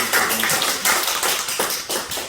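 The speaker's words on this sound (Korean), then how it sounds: "우리 쪽에 자리에서 박수 주세요." A church congregation at a revival meeting claps together, a dense steady patter of many hands filling the hall, close and loud with small swells in intensity.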